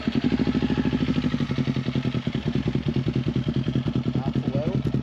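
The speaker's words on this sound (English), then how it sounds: "She revs a lot past that 12K mark now" A customized Kawasaki Z400 motorcycle engine runs close and loud, pulsing with a fast, even rhythm and rising in rapid revs.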